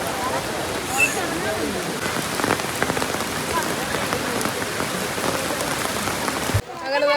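Steady rain pours down at Athirappilly, a dense, even hiss of drops striking surfaces that fills the whole stretch before cutting off abruptly near the end.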